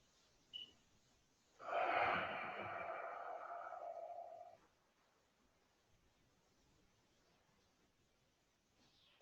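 A single deep, audible breath during a Jo preparation exercise, a rushing exhale of about three seconds, close and clear, set in otherwise near-silence.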